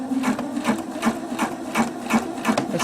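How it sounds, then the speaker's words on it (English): A sewing machine stitches a jeans hem over pins, with a close, steady rhythmic clatter of the needle at an even pace and no voices. "I'm going to have to sew over"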